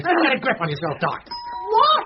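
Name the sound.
doorbell ringing in radio play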